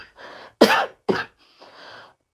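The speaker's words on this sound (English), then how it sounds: "Don't worry about my cough." Two sharp, harsh coughs in quick succession from a nearby person, each a loud burst, framed by softer breathy sounds before and after.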